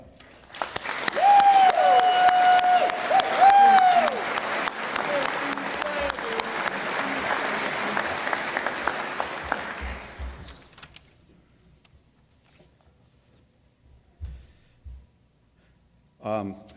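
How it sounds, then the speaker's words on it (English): Loud applause from a formal congress session audience greeting delegates and visiting DeMolay members, sustained for about ten seconds before fading, followed by a few faint thumps and brief noises. "Can I get a round of applause for our Congress delegates and our visiting DeMolay?"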